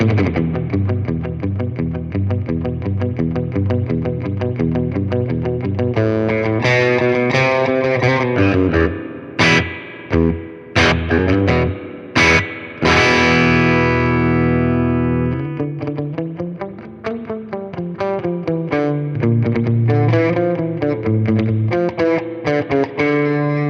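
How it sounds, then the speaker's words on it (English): An electric guitar plays through a Monoprice/Harley Benton tube amp with the reverb turned up, loud sustained chords and notes ringing out with a wet, drippy tail and a few brief pauses. "Let's crank the reverb a little bit."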